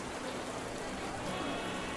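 Heavy rain falls steadily on Bourbon Street in the video game Burrows, a dense, continuous wash of downpour hissing evenly throughout with no voices.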